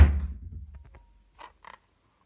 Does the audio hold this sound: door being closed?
yes